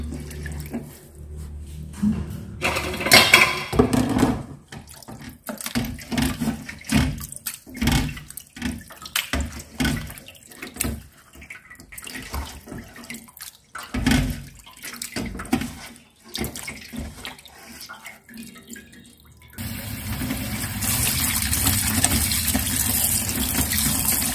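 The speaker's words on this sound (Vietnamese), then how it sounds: "bây giờ mình sẽ đem đi để mình rửa cái phần thịt này" Raw chicken being rinsed under a running tap in a sink while a chicken-and-rice dish is prepared: water splashes and gushes in uneven spurts as the meat is handled, then a steady stream pours near the end.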